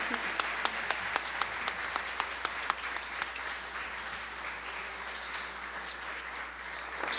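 An audience at a Colombian Andean music festival applauds steadily, with dense clapping and a few sharper individual claps standing out, sustained for several seconds before thinning slightly.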